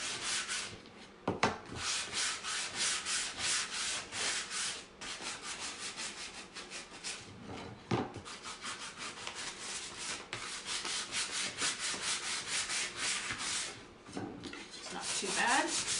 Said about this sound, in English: I'll try and keep my sanding off the board.